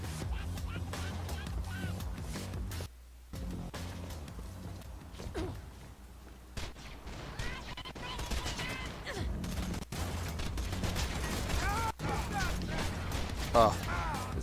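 In Borderlands 2, a Torg gun fires slow explosive rockets, producing a scattered series of bursts and impacts over busy game noise, with a voice speaking at times.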